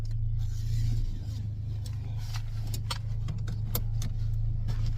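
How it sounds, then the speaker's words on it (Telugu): A car drives along the roads of Muscat, giving a steady low engine and road hum from inside the cabin, with faint clicks and rattles over it. "మా ఆయన డ్రైవింగ్ చేస్తున్నాడు."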